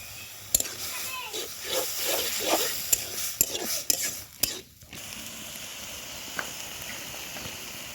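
Pumpkin leaf paste frying in oil with salt, stirred with a utensil: a steady close sizzle broken by clinking scrapes against the pan, which then settles to a quieter hiss, while someone talks throughout.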